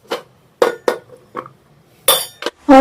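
Metal utensils clink sharply against a pot as cooked sem beans for pickle are moved into a vessel, about seven distinct loud, ringing strikes spaced irregularly and heard close.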